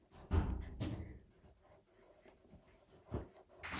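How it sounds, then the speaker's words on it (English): Pen or pencil writing by hand on paper, a series of close scratchy strokes with short pauses between them, written out as a number in the tens of thousands, with no talk. "So I'm going to write"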